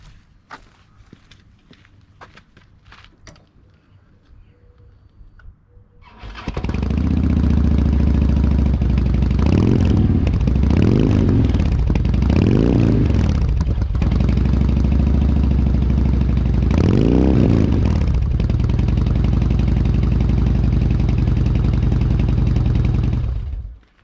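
A custom 2007 Harley-Davidson Street Glide V-twin fires up after a few seconds of quiet handling noises, then settles into a loud, close, lumpy idle with several sharp throttle blips and revs rising and falling.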